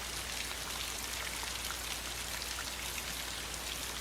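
Heavy rain pours steadily in a scene from the 1960 film Psycho, a dense, even hiss of falling water with no other sounds standing out.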